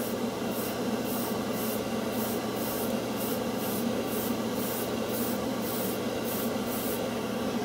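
An airbrush blows plain air to flash-dry lacquer on a scale model, a steady close hissing rush that stays even and unbroken throughout with no voices.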